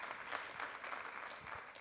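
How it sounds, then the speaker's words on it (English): Audience applause at a tech innovation showcase, a dense steady patter of many hands clapping throughout, fairly faint and distant with no voices over it. "Give them a round of applause one more time"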